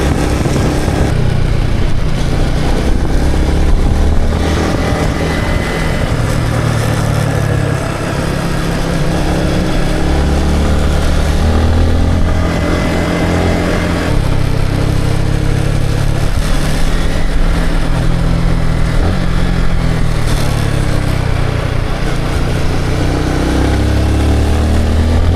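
A motorcycle engine runs steadily and loudly up close, a low rumbling drone with slight shifts in revs throughout.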